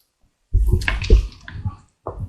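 Boiled water is poured from a pot into palm nut soup, making a close sloshing, splashing pour for under two seconds, then a short final splash.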